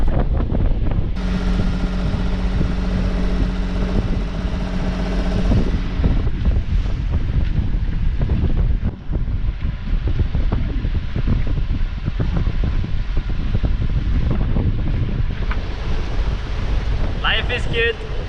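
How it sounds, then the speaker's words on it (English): Strong wind buffets the microphone aboard a sailboat heading into a headwind at night, a loud continuous roar with waves and hull noise beneath it and a steady engine-like drone in the first few seconds. "right now the wind is coming straight from ahead"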